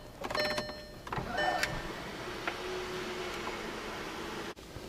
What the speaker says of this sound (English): Open the sunroof again.